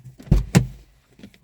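Two sharp thunks from a Mini Cooper car door, close and loud in quick succession, followed by faint rustling.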